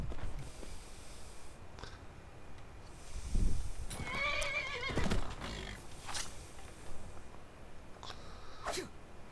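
A horse in the Skyrim video game neighs and snorts among clip-clopping hooves, the whinnies rising clearly over a low ambient game backdrop at moderate distance.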